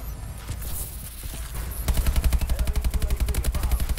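Rapid automatic gunfire in the Call of Duty Advanced Warfare multiplayer shooter, a steady close rattle of shots starting midway after a noisy stretch of game ambience.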